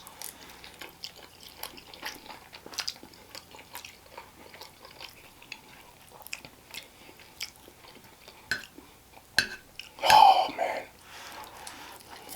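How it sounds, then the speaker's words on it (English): Close, quiet chewing and slurping of spicy garlic noodles, with soft irregular mouth sounds and occasional louder smacks and a slurp near the end. "I want to eat my noodles."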